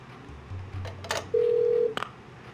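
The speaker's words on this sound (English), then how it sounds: "Public phone. 75 cents, wonder if it works." Public telephone in the Parasite Eve 2 video game being dialed: a few low tones, short clicks, then a steady electronic dial beep lasting about half a second and a final click, faint and without speech.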